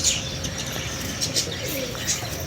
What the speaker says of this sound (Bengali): এই যে দেখুন পায়রাগুলো